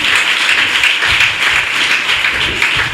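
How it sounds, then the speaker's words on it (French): A church congregation claps during a fasting-day worship service, a dense continuous wash of applause lasting about three seconds with no voices. "Applaudis pour le roi des rois."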